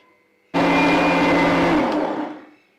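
A kitchen mixer grinder whirs loudly as it grinds onions for stuffed bitter gourd, starting abruptly, holding a steady motor roar for about two seconds, then winding down.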